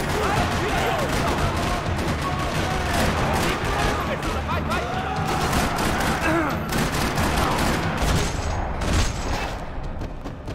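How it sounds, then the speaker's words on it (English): Sustained gunfire in a parking lot in the video game Max Payne 3, loud dense bursts of rapid shots and rattling automatic fire throughout, with a voice faintly under the din. "Another parking lot rattling with gunfire"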